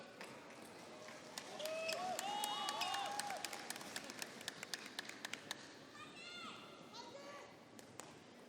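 Spectators at an Australian Open table tennis doubles final, with vocal Korean fans shouting from the crowd, while ball taps and shoe squeaks ring out over a steady arena murmur.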